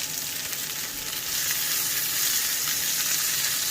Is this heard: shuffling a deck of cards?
no